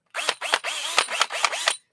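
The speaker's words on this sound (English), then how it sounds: "drill like this." A power drill resembling a Makita runs in about seven short, loud bursts in quick succession, each a whining buzz that starts and stops abruptly.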